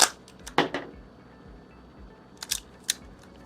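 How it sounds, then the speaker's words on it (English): A gun's bolt is locked to the rear, heard as a few sharp metallic clicks and clacks near the start and again later, close and crisp over a quiet background, no talking. "Now we're going to lock the bolt to the rear."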